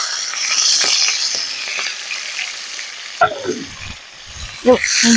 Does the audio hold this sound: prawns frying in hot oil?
yes